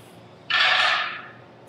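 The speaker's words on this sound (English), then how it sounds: "So I always want to spray away from my bowl first, just to make sure that I'm getting the results that I want." An airbrush sprays colour at 50 psi for decorating pralines, a single burst of hissing air that starts abruptly, holds for about half a second and then fades out against quiet room tone.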